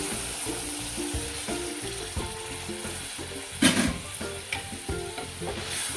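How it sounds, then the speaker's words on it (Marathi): Ridge gourd curry sizzling in a pan while being stirred, with water added; a constant hiss runs under repeated scraping strokes and a sharp burst of sizzle partway through. "ह्यामध्ये मी पाणी टाकणार आहे"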